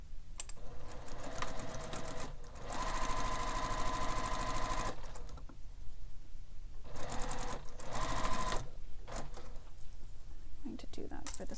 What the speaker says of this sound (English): we're going to sew along the open edge only